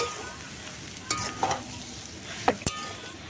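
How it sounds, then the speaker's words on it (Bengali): Grated potatoes stirred into a fried egg-chop mixture in a pan, a soft low sizzle broken by a few sharp scrapes and knocks of the spoon, no talking. "এবারে যে গ্রেট করে রেখেছিলাম আলুগুলো এবার আমি কিন্তু দিয়ে দেব এর মধ্যে দিয়ে এটাকে ভালো করে আবার মিশিয়ে নেব"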